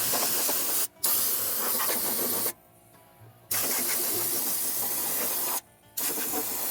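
A small air compressor drives a spray gun laying rust-proofing onto a truck's underside outdoors on grass, a loud steady hiss in three long bursts separated by brief pauses and one longer gap.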